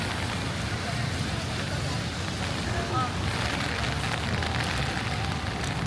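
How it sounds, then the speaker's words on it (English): Strong wind gusting through the streets of Manhattan at night near Rockefeller Center, a steady broadband roar filling the scene with faint city noise beneath. "that wind gust is crazy."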